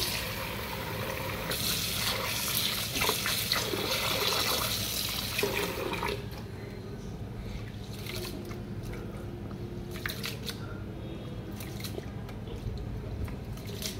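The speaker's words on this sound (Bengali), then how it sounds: "চাল আর ডালগুলোকে ভালো করে ধুয়ে নিতে হবে" Rice and lentils being washed in water for khichuri, close swishing and sloshing with running water, louder at first and then settling into quieter stirring and trickling.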